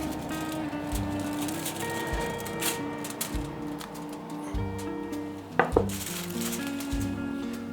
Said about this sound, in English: Just going to give it a bit of a stir. Make sure it's not all stuck to the sides or anything.